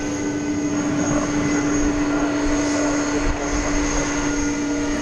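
Trijet airliner on flight 765 to Louisville at DFW Airport at night, a steady rumbling engine drone with a sustained tonal whine running through it, even and moderately loud, no voices.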